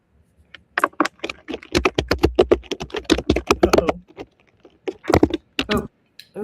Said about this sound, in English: Oh, someone's typing.